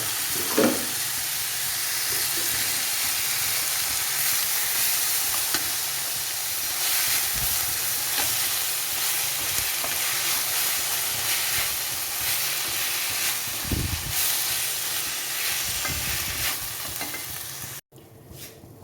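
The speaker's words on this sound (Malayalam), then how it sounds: "വേവിച്ച് വെച്ചിരിക്കുന്ന പച്ചക്കറി ഇട്ട് കൊടുക്കാം." Boiled vegetables, beans and raw plantain, fry in a pan with pepper powder, giving a steady close sizzle and hiss with occasional stirring scrapes throughout.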